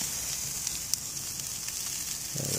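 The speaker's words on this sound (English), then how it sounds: "Okay, so they're sizzling nicely" Food sizzling on a lava rock grill converter outdoors in winter, a steady close crackling hiss with small pops, alone without talk.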